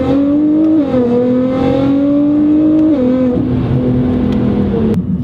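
A Nissan GT-R accelerates hard from a launch-control start with a loud, close, sustained engine roar. Pitch climbs in steps with a couple of quick gear changes, and no one speaks over it.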